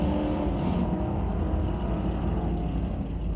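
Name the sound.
1971 Ford Pinto drag racing down the strip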